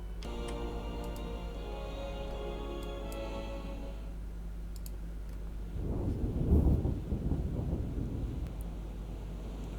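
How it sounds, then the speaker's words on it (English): Thunder rolls through a rainstorm in the naval game Ultimate Admiral Dreadnoughts, a low rumble swelling midway over a steady bed of rain and wind, with a droning tone fading out early. "I hear thunder."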